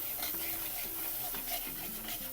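Vada pav potato masala, with a spoonful of sugar, ginger and garlic, being stirred and sautéed in a pan: soft repeated scraping strokes over a low hiss, close and steady, with no talking.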